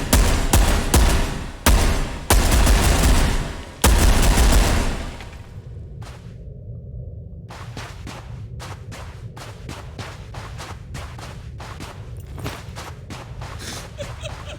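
Shotgun blasts in Ghost of Tabor, several loud close booms in the first few seconds, then quieter scattered clicks and thumps over a low background.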